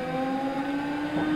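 Lamborghini Murcielago LP-640 with a 6.5-litre V12 in Gran Turismo 6 at Suzuka, a steady, high, tonal engine drone that holds at high revs with a slight pitch shift, loud and continuous.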